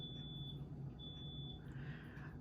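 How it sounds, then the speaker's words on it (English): A buzzer alarm outside a door gives faint, intermittent high-pitched beeps, on and off, in the distance of a quiet room. "I tried to turn it off and it keeps buzzing on and off, so it's outside the door."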